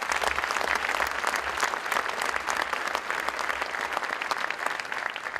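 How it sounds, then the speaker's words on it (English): A room full of people at a Somerville GLX funding agreement event applauds steadily, a dense, continuous wash of clapping at even loudness with a low hum underneath and no speech. "Let's give them a round of applause."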